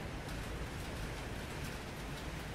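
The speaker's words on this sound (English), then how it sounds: "It's raining blood?" Steady rain falls in an indie horror fishing game, a dense, constant hiss of pattering drops with no breaks, fairly faint and alone.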